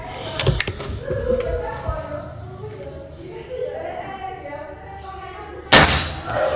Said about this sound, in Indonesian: Tembakan ke 8.